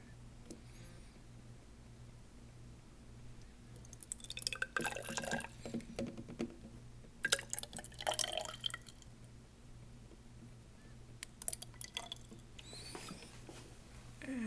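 Distilled water is poured into a glass graduated cylinder in a lab, heard as soft, close splashing and trickling in several short bursts over a low steady hum.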